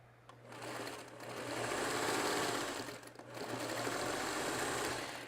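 A sewing machine stitches a row of mini-charm quilt blocks together, a close, fast mechanical whirring run that briefly pauses midway before resuming.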